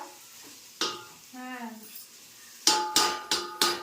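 Onion, green chili and curry leaves fry for poha, a quiet sizzle broken by a brief rising tone and a run of four sharp metallic spoon strikes against the pan near the end.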